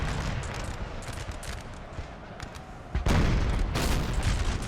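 Cannon and musket volleys from a Napoleonic Total War battle roll together in a dense, continuous rumble of crackling fire, surging louder with a heavy burst partway through.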